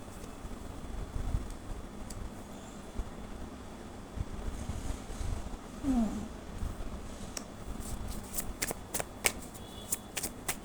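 Tarot cards shuffled by hand for a reading, a steady soft riffling and sliding texture that runs through the whole stretch, with a few sharper taps and flicks near the end and no talk over it.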